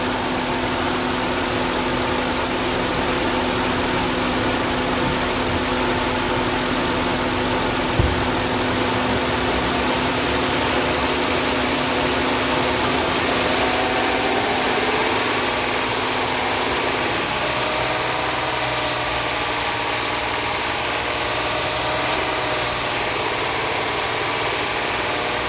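A car engine held at raised revs around 2500 RPM during a battery charging test, a steady loud drone that drops slightly partway through, with no talk.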